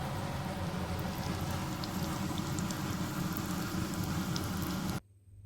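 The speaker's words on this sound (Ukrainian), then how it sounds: "Обсмажуємо оладки з обох сторін до готовності" Zucchini fritters made with grated potato and onion fry in a pan, giving a dense, even crackling sizzle that runs steadily up close before cutting off abruptly near the end.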